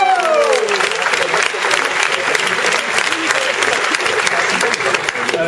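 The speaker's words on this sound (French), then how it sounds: "Merci d'applaudir" Dense, steady audience applause fills a talent-show hall, loud and continuous from start to finish, with the tail of a melody fading out at the very beginning.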